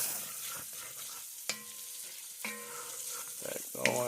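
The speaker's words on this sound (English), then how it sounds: "You can hear that sizzle." Cabbage and onions sizzle steadily in a hot frying pan, with a few sharp clinks and scrapes of a utensil stirring near the start and end.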